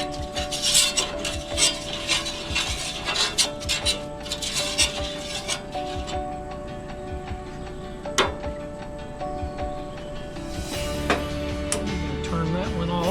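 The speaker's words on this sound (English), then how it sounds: "We'll take our spatula and just smooth that around a little bit." A spatula scraping and smoothing across a pan for Carolina-style livermush, with soft repeated scrapes, clinks and a faint sizzle, while a voice talks over it.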